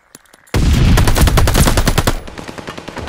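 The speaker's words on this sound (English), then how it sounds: "Hardpoint's under fire." Rapid automatic gunfire from Call of Duty: Vanguard, a loud, dense burst of close shots that rattles for about a second and a half before trailing into sparser pops.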